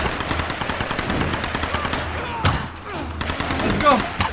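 Rapid gunfire in the Tomb Raider video game: fast automatic bursts and sharp shots crackle continuously, fairly close, with a louder impact near the middle and game effects layered behind.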